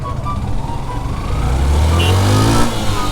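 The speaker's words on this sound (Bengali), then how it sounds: "ভাই এই বাইকটা রান দিতেই আছে।" A modified Yamaha FZ v2 motorcycle engine revs up, its steady idle rising into a louder, climbing roar close by, with no talking.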